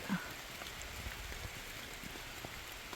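Rain falls at the Thenmala Leisure Zone in Kerala as a faint, even outdoor hiss with scattered soft drops, steady throughout and without talk.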